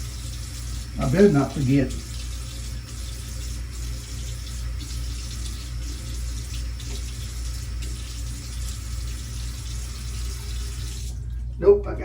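Water from a bathroom tap runs steadily to wet a face before a shave with a Weck razor, a constant close rush throughout with a few splashes, while someone briefly speaks over it.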